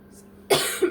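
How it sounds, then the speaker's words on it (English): A single sharp cough, close and loud, after a moment of near silence, trailing into a brief throaty follow-up. "Pardon me for coughing."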